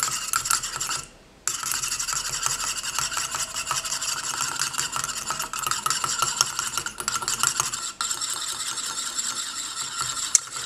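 A whisk works quickly through a homemade blackcurrant makeup remover, a continuous close, scratchy ticking rattle of wire against the container that breaks off briefly twice and then resumes.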